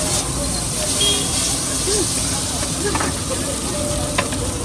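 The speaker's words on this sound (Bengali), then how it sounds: "এই যে তো এখানে চাউমিন ভাজছে কাকা" Chowmein with chicken fries on a hot pan at a street food stall, giving a constant loud sizzle and hiss with a few clanks of the spatula, while people talk nearby.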